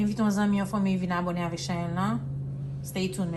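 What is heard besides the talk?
None of the usual background noises is heard.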